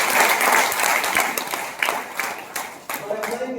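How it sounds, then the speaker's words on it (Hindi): Audience applause at a Hindi-language network marketing gathering, steady dense clapping that thins with a few louder claps near the end, with voices mixed in. "एक बार सबके लिए तालियां बजाएं"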